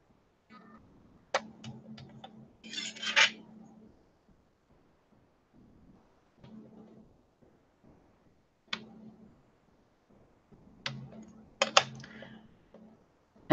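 A blade presses through polymer clay for a shamrock, giving soft scattered taps and clicks with brief sharp ticks, quiet and intermittent between pauses.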